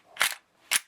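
Two sharp, snappy mechanical clacks about half a second apart as the slide of a WE Glock 18C airsoft pistol is pulled back on its rails, close and alone.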